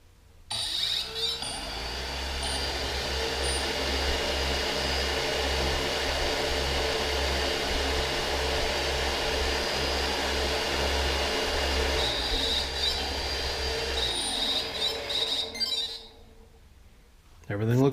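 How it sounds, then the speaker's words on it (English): The motors of a 3DR Solo quadcopter drone run during an indoor motor test, a steady, close whirring hum with faint high whine that holds for about fifteen seconds before cutting off. "I'm going to do a quick motor test on Solex"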